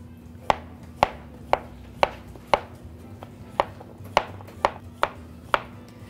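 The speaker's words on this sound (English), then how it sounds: "We'll cut up our zucchini." A knife chops zucchini on a cutting board for spicy baked ratatouille, about a dozen crisp, evenly spaced cuts at a steady unhurried pace, close and clear with no talk.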